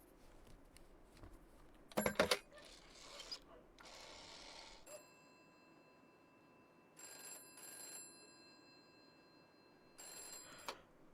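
A telephone ringing in the police-management video game This is the Police, with repeated electronic ring bursts separated by short pauses, preceded by some clattering mechanical noises, and no voices.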